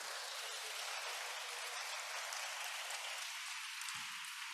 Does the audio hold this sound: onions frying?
no